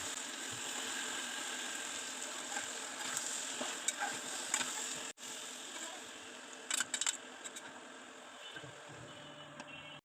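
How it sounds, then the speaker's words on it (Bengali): Taki fish chorchori with coriander leaves being stirred in a pan, a soft scraping and faint sizzle running steadily at low level throughout, with a few sharper clinks near the end and no talk. "আমি এখনই চুলাটা বন্ধ করে ধনেপাতা দিয়ে ভালোভাবে মিশিয়ে ঢাকনা দিয়ে ঢেকে চুলার উপর রেখে দেব 2-3 মিনিট।"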